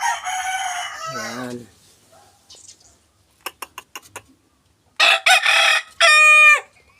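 A rooster crows loudly and close by, then crows again after a stretch of quieter clucks and clicks; a voice briefly speaks in between.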